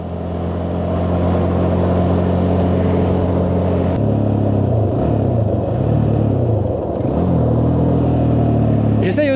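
A Suzuki LTZ 400 quad's engine drones loudly and steadily while riding, with throttle blips and revs rising and falling around downshifts, close and dominant, with someone talking over it.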